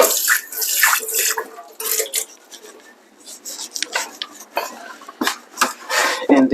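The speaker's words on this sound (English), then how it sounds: "rinse this bowl out." Water runs and splashes as a bowl is rinsed at a sink, with scattered clinks of dishware in a steady wash of flow, close by.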